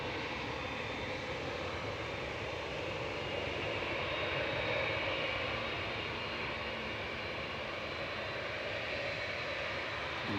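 An Airbus A319 arriving at Manchester Airport from Brussels gives a continuous jet engine rumble with a soft whine, steady and moderately near for about ten seconds, without any speech.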